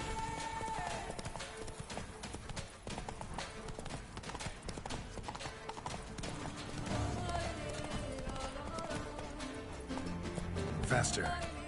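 Roach, a horse in the video game The Witcher 3, gallops with a fast, steady clip-clop of hooves under in-game music and ambience, and a voice talks over it.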